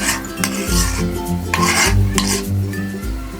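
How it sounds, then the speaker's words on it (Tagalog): Butter and sweet corn being stirred together in a pot for a sweet cheese corn snack, giving a steady scraping and rubbing of a utensil against the metal, loud and close, with no talk. "So, mix mo lang siya mga besh, yung butter at yung sweet corn."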